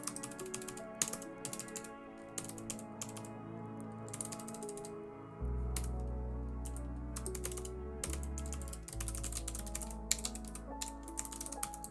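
Rapid clicking keystrokes on a computer keyboard come in irregular bursts with short pauses, close and fairly quiet over a low steady hum, with no voices.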